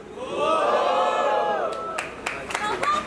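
Crowd at a Brazilian street rap battle, Batalha da Leste, roaring with shouts and whoops that swell and then fade, followed by scattered sharp claps and calls near the end.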